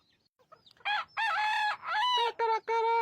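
A rooster crows loudly and close, with a couple of long, strained calls and shorter broken bursts, after a brief quiet lead-in.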